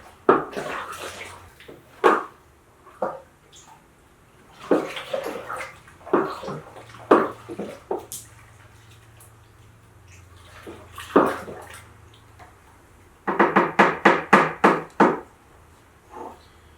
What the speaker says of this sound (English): fill the rest of this with cold water till we get to the 21 litre mark